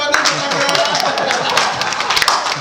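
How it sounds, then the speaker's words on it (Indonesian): A church congregation gives a quick burst of clapping during a Saturday worship service, dense, fairly close hand claps running for a couple of seconds with a voice mixed in. "Kasih tepuk tangan dulu tetangga."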